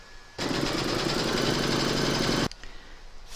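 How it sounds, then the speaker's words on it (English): A home embroidery machine stitches a round on a drawstring bag with the hoop attached, giving a loud, steady mechanical whir with rapid needle chatter for about two seconds before it stops abruptly. "Pop your hoop into your machine and stitch round number 3"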